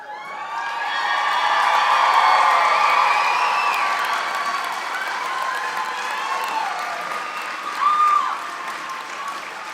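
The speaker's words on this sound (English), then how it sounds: "Let's give them one more round of applause" Sustained applause and cheering from a crowd at a college commencement right after graduates move their tassels, swelling and holding steady with scattered whoops and a brief shrill whistle-like cry near the end.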